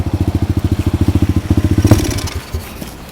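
A pit bike engine runs rough with a rapid, regular loping putter, then falters and sputters out into a few uneven coughs, close and loud.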